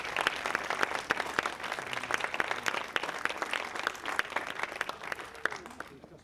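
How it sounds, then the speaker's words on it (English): An audience at an outdoor Memorial Day ceremony gives a cable camera operator a round of applause: a fairly thin, scattered crowd of distinct claps, moderately close, tapering off at the end. "Let's give him a round of applause"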